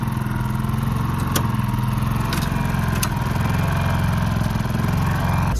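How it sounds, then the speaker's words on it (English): A portable generator runs steadily and loudly close by at a detailing van, its engine droning with an even low rumble and a mechanical rattle, and a few faint clicks on top. "So now the generator is turned on, it's warmed up"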